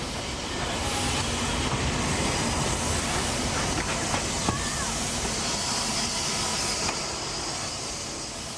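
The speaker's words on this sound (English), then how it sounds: "She is a 264 tank engine, originally designed for the London, Midland and Scottish Railway." An LMS 2-6-4 tank steam locomotive of Class 4P roars close by with a loud, continuous rush of rumbling wheels and hissing steam that holds steady throughout before easing slightly at the end.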